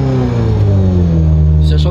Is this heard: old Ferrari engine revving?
yes